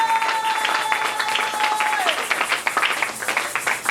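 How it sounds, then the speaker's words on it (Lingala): A church congregation claps and cheers in praise, dense applause with shouts filling the room alongside voices. "Est-ce qu'on peut acclamer très fort pour le Seigneur?"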